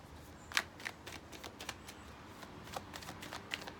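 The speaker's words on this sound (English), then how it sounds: "I'm just shuffling the deck" Tarot cards being shuffled by hand, a quick series of crisp riffling and flicking clicks, close and fairly quiet, with no talking over it.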